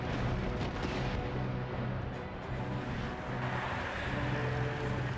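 Mortar fire from a bomb ketch bombarding a ship in an Empire: Total War naval battle: a dense, continuous rumble of heavy booms that stays steady and loud throughout.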